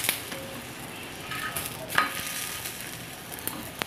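Boli flatbread made from maida dough fries in ghee on a stovetop, a faint continuous sizzle with occasional soft crackles and light clinks from a pan, no talking.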